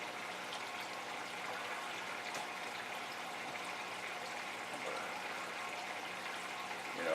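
A DIY 350-gallon-per-hour aquarium filter pours out a constant stream of water, an even, moderately loud gush and splash that stays the same throughout, with no one speaking.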